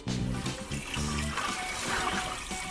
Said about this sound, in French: D'accord, Jackie, tu es prêt à te faire rincer?